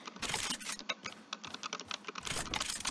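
Busy keystrokes on an old Dell computer keyboard, quick uneven clicks running steadily for a few seconds, close and clear with no talk.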